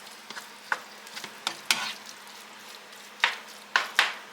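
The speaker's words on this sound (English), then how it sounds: "I'm going to let my beef broth cook out a little bit" Beef broth cooking down in a pan, giving a soft steady sizzle with occasional louder scrapes and clatters of stirring spread through it, close and moderately quiet.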